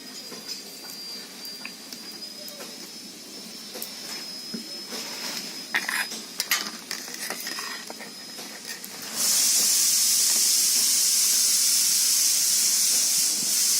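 Mustard oil poured into a hot wok bursts into a loud, steady sizzling hiss that starts suddenly partway through and holds, following quieter kitchen clatter and faint scraping.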